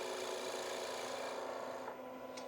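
A hollowing tool held at ninety degrees in the flute cuts into a small-opening wooden hollow form spinning on a lathe, giving a steady, close rasping scrape that eases slightly near the end.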